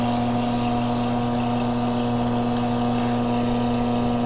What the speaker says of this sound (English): I've just got a Dremel rigged up for now to give us